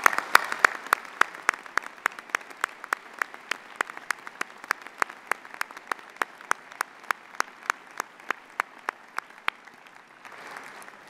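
Applause at a university convocation ceremony: a steady round of clapping fills the hall, with sharp individual claps cutting through the crowd's patter, fading out near the end.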